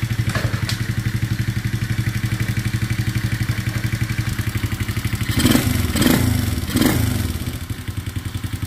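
A small 110cc ATV engine runs steadily close by with a fast, even low putter, and three short throttle blips near the end briefly raise the pitch and volume before it settles back to idle.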